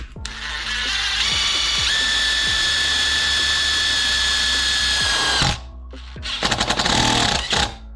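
A DeWalt DCF850 cordless impact driver drives a screw into 2.5 mm steel, whirring loud and close for about five seconds, then stopping before a second burst of rapid impact hammering.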